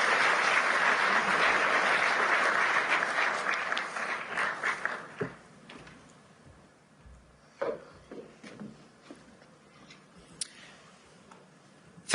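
Loud applause from a large audience welcoming French President Emmanuel Macron at the Davos World Economic Forum, a dense clatter of clapping that holds for several seconds, then thins to scattered claps and fades out.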